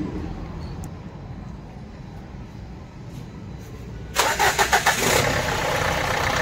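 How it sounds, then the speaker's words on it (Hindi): A Renault Duster 85 diesel SUV cranks over after a quiet stretch, its starter whirring through a few rhythmic pulses before the engine catches and settles into a loud, steady idle close by. "अभी स्टार्ट करो कार, कार को करते स्टार्ट यहाँ से"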